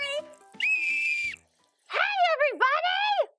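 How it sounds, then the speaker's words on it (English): Toy whistles blown at a seaside children's story show: a short burst of sliding, siren-like shrill tones, then a pause and a longer warbling run of bending pitches, loud and close. "let's get out our whistles and blow them"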